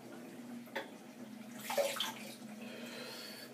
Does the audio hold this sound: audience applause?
no